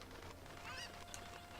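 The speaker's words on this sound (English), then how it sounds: "Cool thing about chickens is you can fly with them." A cucco chicken from the video game The Legend of Zelda: Ocarina of Time squawks in a few short, honking bird calls, quiet against a steady game background.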